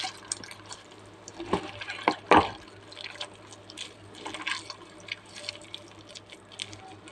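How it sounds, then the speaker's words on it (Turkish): Mashed cornelian cherries are pressed through a strainer, giving wet, squelching scrapes and drips with a couple of louder sloshing thumps, close and without speech. "Şöyle ezerek çekirdeklerinden ayıralım. Süzgeçten geçirelim."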